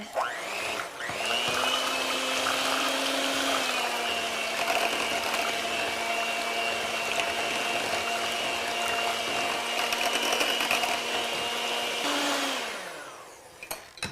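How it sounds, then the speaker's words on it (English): A blender runs on wet ingredients, eggs among them, in a bowl for breakfast bars made with steel-cut oats, a steady loud motor whine that starts abruptly and holds for about eleven seconds before winding down. "we're just going to blend them until they're nice and smooth"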